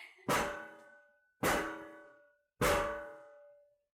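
Three evenly spaced, sharp knocks at a door during a stage play, each ringing out and decaying before the next, heard alone without speech.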